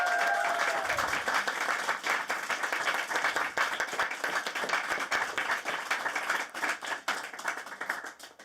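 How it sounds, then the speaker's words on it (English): A conference audience at a women's forum event in Davos claps together, a thick and even round of applause that holds steady before thinning slightly toward the end. "Please, a big round of applause for them."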